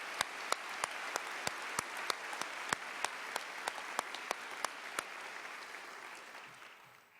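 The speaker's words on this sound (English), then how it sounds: "Let's give them another round of applause" An audience at a university fall conference applauds: steady, moderately distant clapping with a few sharp individual claps standing out, fading slightly toward the end.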